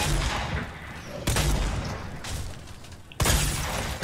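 Gunfire in the Fortnite video game erupts in three loud bursts of rapid shots, separated by quieter stretches of rattling noise.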